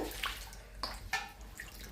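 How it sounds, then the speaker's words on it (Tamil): Mint leaves are swished and rinsed in a bowl of water, giving a few soft splashes and sloshes that sound close and fairly quiet. "வடிவாக கழுவிட்டு இன்னும் தண்ணியில் கழுவுங்கோ"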